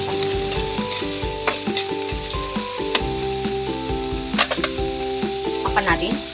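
Tomatoes sauté in a pan for pakbet Ilocano, with a steady close sizzle under scraping stirs and clatter from the utensil, over a hum from the background with steady pitch.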